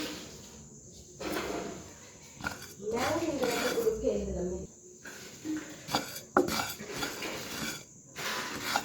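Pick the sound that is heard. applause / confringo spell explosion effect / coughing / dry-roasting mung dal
dry-roasting mung dal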